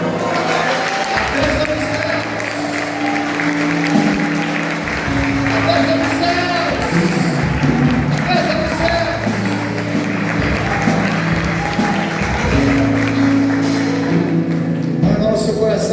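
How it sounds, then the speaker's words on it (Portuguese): A church congregation applauds continuously for about sixteen seconds, loud and sustained clapping layered over music and sung or spoken voices. "Pode aplaudir."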